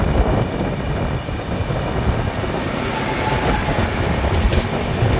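Sogaria Intercity Express rolling past on the Hazrat Nizamuddin line, a steady rumbling wash of wheels and carriages with faint clatter, heard as a continuous close drone throughout.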